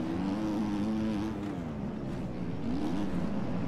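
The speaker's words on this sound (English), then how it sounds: "I started revving on the line right now." A dirt bike engine revs on the start line in the MX Bikes racing video game, giving a continuous buzzing drone that rises and falls in pitch, fairly faint and steady, with no voices.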